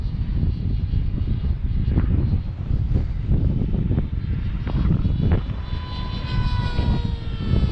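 A ZOHD Dart XL Enhanced FPV flying wing climbing at full throttle on its maiden flight, its motor and propeller giving a loud, steady whine and drone heard close, with buffeting wind noise throughout.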